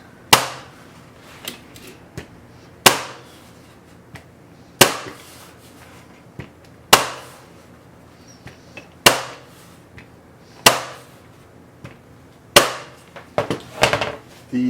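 A staple gun fires staples through canvas into a wooden stretcher frame, sharp snapping shots about every two seconds with a quick cluster near the end, close and loud with no talk.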